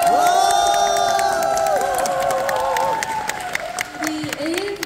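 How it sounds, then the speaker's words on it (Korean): A concert crowd at a K-pop group's debut show claps and cheers, with high excited screams and whoops sweeping over dense applause, fairly loud and close throughout. "박수를 박수!"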